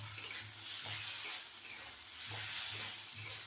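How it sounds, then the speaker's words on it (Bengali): Ingredients fry and sizzle in a small amount of oil, used earlier for frying potatoes, while being stirred in a pan for fish-head muri ghonto; a steady close hiss with rhythmic scraping strokes. "আলু ভাজা তেলে আমি এটাকে ভেজে নিচ্ছি"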